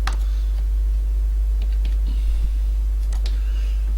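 Formula entry being typed on a computer keyboard during spreadsheet work: a few scattered, close key clicks over a steady low hum, with no talking.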